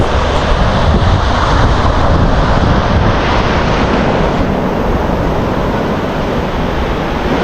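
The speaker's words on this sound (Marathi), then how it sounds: "बघू शकतो तुम्ही लाटा कशा येतात ते" Ocean waves break and wash onto a beach at Anjarle on the Konkan coast of Ratnagiri, a steady loud rushing surf with constant wind buffeting the microphone and no pauses.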